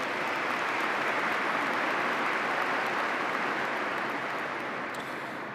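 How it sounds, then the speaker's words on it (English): Audience applause at a police academy graduation ceremony, a steady, dense wash of clapping from a large crowd that holds evenly for several seconds and tapers slightly at the end. "Let's give them a round of applause for all the work and dedication that they've given."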